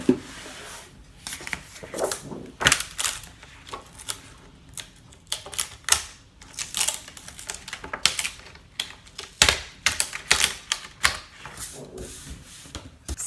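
A Brother ScanNCut cutting machine unloads its cutting mat after cutting a snowflake tag design, giving a busy run of close mechanical clicks, taps and rubbing scrapes that rise and fall in uneven bursts, with no voice.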